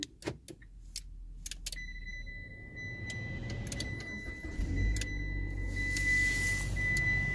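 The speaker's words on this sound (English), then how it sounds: "Car started." Keys jangle and click near a car in wintry Canada, then its engine starts and settles into a low, steady rumble under a thin electronic whine.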